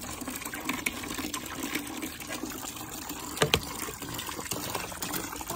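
Water drains out of a household water heater in a steady, broadband gush that runs the whole time, with a couple of brief louder splashes partway through and no talking.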